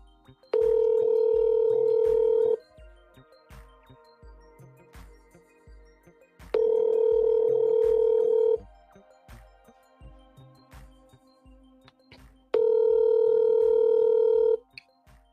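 Three long ringback tones on an outgoing cold call, each about two seconds and spaced evenly, sounding through a phone line over faint clicks and background noise.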